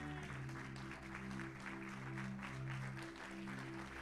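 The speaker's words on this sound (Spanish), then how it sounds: "Vamos a dar un aplauso fuerte" A church congregation applauding loudly together, a steady dense wash of clapping that fills the whole moment, with a sustained musical tone underneath.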